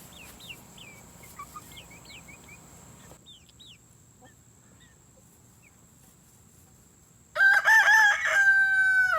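A rooster crows loudly near the end, after faint scattered bird chirps and clucks over quiet outdoor background.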